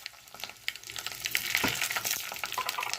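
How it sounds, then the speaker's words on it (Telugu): Mustard seeds, cumin and dry red chillies sizzle and crackle in hot oil for a tempering, a dense steady frying hiss with scattered sharp pops close by. "ఇప్పుడు నేను పోపు వేసేసుకుంటానండి. ఆవాలు, జీలకర్ర, ఎండుమిరపకాయలు"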